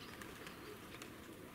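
Pigeons just released outdoors on a cold first-snow December morning, giving soft cooing and brief wing flaps, faint and fairly distant over a steady background hiss.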